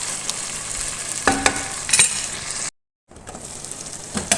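Tomatoes fry in oil in a pan for mint rice. A continuous close sizzle runs under a few sharp stirring scrapes and clinks, with a brief dropout to silence midway.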